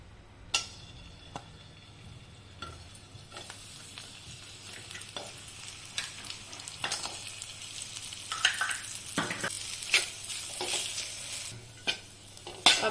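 Dates and apricots sautéed in ghee in a pan give a soft, low sizzle, broken by repeated scraping and clinking stirs that grow busier toward the end, with no voices.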